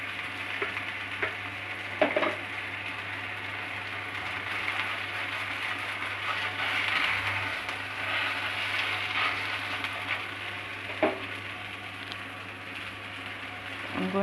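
Beetroot chilaa frying in a pan over a medium flame gives a steady, close sizzle with soft crackles, a few louder spatters and scraping touches breaking the even hiss throughout.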